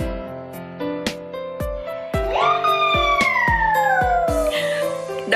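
A small child imitates a cat's meow with one long, drawn-out cry that slides downward in pitch, heard over a steady rhythmic tapping beat.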